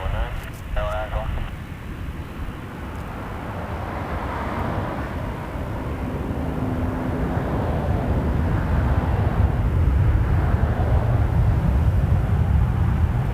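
An Embraer Legacy business jet at Toronto Pearson Airport, a broad engine roar that builds steadily and grows louder over several seconds, with radio chatter and voices at the start.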